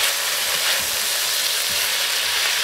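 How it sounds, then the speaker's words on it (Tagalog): Asparagus stir-frying in oyster sauce in a pan gives off a steady, loud, close sizzle and crackle, with faint scraping as it is stirred. "Haluin na natin. Ihalo na natin."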